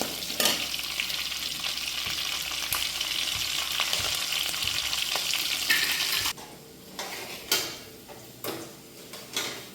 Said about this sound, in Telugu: ఎర్రగడ్డ బాగా వేగింది